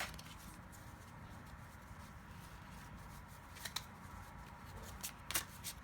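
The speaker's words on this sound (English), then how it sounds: "when people include the sounds of the shuffling" Tarot cards being shuffled by hand in a steady, close riffling patter lasting throughout, with a few sharper snaps and riffles near the end, no voices.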